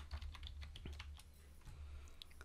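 Computer keyboard typing while entering a software search, a quick irregular run of light clicks and key taps over a steady low hum, fairly close and without talk.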